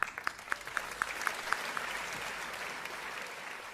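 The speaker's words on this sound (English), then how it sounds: "Give her a hand clap." Audience applause at an awards event, scattered sharp individual claps at the start merging into a steady wash of many hands clapping, fairly distant and even.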